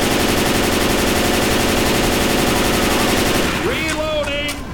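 Sustained machine gun fire from Left 4 Dead 2 rattles loudly as a continuous rapid stream. Near the end it tapers off under a voice and a rising whine.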